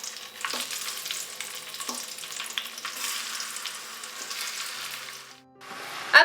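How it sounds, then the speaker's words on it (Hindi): Chicken pieces frying in a pan with whole spices for Hyderabadi pulao, a steady close sizzle with occasional stirring scrapes, dipping briefly before a final clatter, with no talking. "अब चिकन को फ्राई कर लेंगे"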